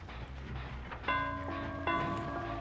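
A bell tolls twice in the video game Dead by Daylight, two clear ringing strikes about a second apart over a low background hum, each leaving a sustained metallic ring.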